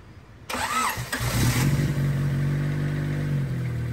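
A Honda D16 VTEC engine fitted with a Crower cam cranks and fires in an EG car, catching after a brief starter whir and settling into a loud, steady, slightly lumpy idle close by.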